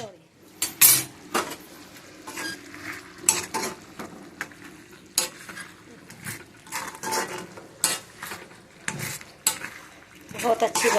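Metal utensils clatter and scrape against pots while a home-cooked vegetable curry is checked on the stove, with a faint sizzle underneath; repeated sharp clinks and stirring scrapes, close and fairly loud, no talk.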